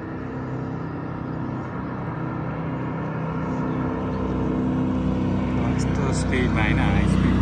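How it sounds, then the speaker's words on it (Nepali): A ship or aircraft passing behind gives a steady, loud engine drone that swells slightly toward the end and runs unbroken, with people talking over it. "पछाडि जहाज आएछ"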